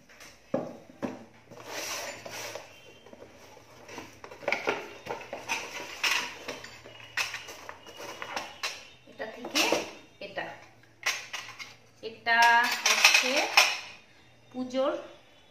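A steel puja plate set with a bell, bowl and lamp handled up close, metal pieces clinking and rattling in scattered bursts while someone talks throughout.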